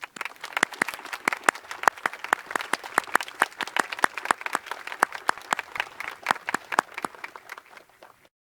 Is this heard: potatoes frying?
no